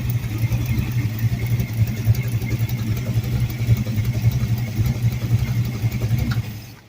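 Engine idling on a run stand, fitted with a windowed intake manifold, a steady loud rumbling idle with an even pulsing beat throughout, fading at the very end.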